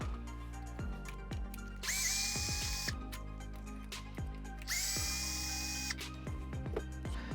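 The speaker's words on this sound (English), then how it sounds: "I'm going to go ahead and remove those 2 screws for you now." Power screwdriver backing out two screws that hold the speed controller on an RC vehicle, two loud whirring bursts with a faint ticking of handling around them.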